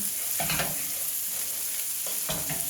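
Ingredients are stirred in a hot frying pan while sausage gravy is made for breakfast, a steady sizzle broken by a few scraping strokes of a utensil against the pan, close and without talking.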